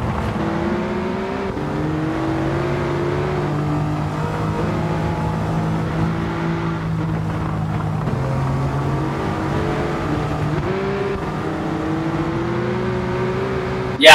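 A race car engine drones steadily at close range, its pitch climbing and dropping with repeated gear shifts over a long stretch, with no talk over it.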